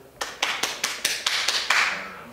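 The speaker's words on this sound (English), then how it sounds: "why are they clapping?" A small group of about twenty people bursts into a spontaneous round of clapping, sharp distinct claps in a quick uneven rhythm that swells slightly toward the end, fairly close and with no talking.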